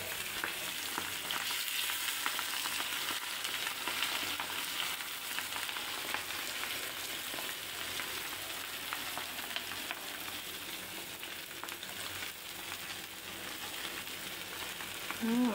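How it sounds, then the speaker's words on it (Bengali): Fish fries in mustard oil in a home kitchen, a dense steady sizzle held close and loud for the whole stretch, with no voices over it. "আর এদিকে আমি মাছটাকে ভাজতে দিয়ে দেবো।"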